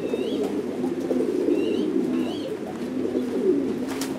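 Thai Titan meat pigeons on a pigeon farm coo in low, repeated rolling calls, with a few faint chirps over a soft background murmur.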